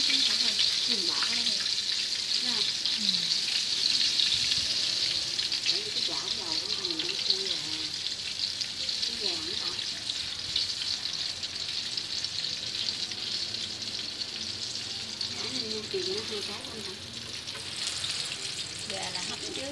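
Crispy chicken deep-frying in oil at a Saigon food stall, a dense and constant bubbling sizzle close by throughout, with indistinct voices talking underneath.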